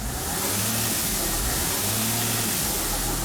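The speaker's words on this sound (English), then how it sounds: "when I accelerate, I hear a hissing sound coming from under the hood" A Mercedes Sprinter van with a boost pressure regulator fault revs under acceleration, with a loud, constant broadband hiss from under the hood layered over the engine drone.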